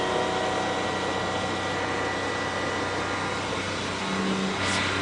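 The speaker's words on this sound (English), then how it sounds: "to listen to all the noises of the car." McLaren supercar engine and road noise heard from inside the cabin while driving, a steady loud droning hum with constant rumble and hiss, no talk.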